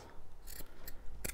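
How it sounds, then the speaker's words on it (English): Scissors snip through paper for a junk journal cover in a few quick, close, crisp cuts with no talking. "Let me cut it down because I'm not going to cut it in a straight line."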